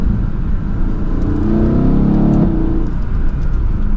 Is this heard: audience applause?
no